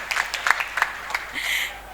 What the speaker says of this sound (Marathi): अभिजित काटकर यांच्यासाठी टाळ्या वाजवा.